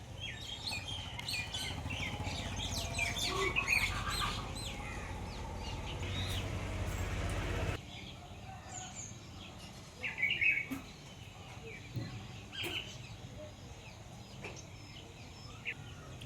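Rose-ringed parakeets chirp and call in short bursts against a steady outdoor hum, the busier first half giving way to quieter, scattered calls later.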